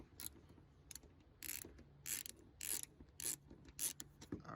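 A ratchet with a 10mm socket loosens bolts in the engine bay of a 2004 Chevrolet Silverado, giving quick bursts of clicking in about seven short, evenly spaced strokes, close and clear.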